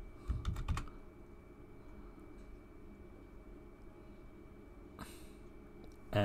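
A computer keyboard being typed on to enter a password: a quick cluster of close, crisp key clicks near the start, then a quiet room hum, with one more tap near the end.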